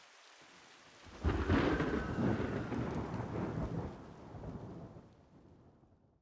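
Rain and thunder in the video game Mandragora: a heavy thunderclap swells in after a quiet start and rumbles over steady pouring rain, then fades slowly while the rain continues.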